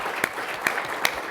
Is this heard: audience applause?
yes